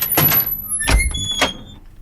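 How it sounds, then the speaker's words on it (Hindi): Three sharp mechanical clacks from a car door handle and latch, spaced about half a second apart, close and clear over a low background rumble. "दरवाजा खोलो।"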